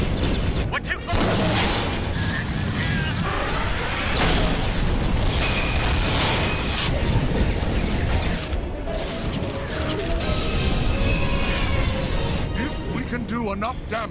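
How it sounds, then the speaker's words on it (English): Heavy flak bursts in a Star Wars video game: dense, continuous booming and crashing explosions with mechanical clatter, loud and sustained throughout, with radio-style voices calling out over the barrage. "This flak is heavy!"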